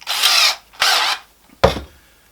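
A power drill fitted with a 1/2 inch bit bores into a 1/2 inch wooden dowel rod for a floating shelf, three loud, close bursts of whirring with short silent gaps between them.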